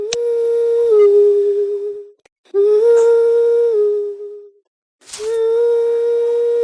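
A kuntilanak ghost character in the horror game THE MEET calls out in three long, wavering wail-like cries separated by short silences, loud and near, each held steady with rich harmonics.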